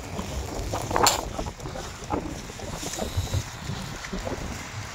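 Strong, freezing wind buffeting the microphone in a continuous roar during snowfall in Germany, with gusts rising and falling and no clear voices.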